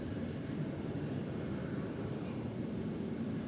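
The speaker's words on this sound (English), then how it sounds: "We got Amazon Air coming in from Fort Worth." Distant, faint, steady roar of an Amazon Air cargo plane on approach to land at Nashville International Airport, a broad even drone throughout with no voices.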